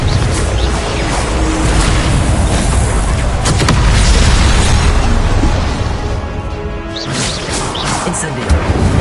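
Confringo and Incendio spell blasts in a video game, a dense run of loud booming bursts and crackling whooshes that overlap continuously, with a brief dip before the explosions pick up again.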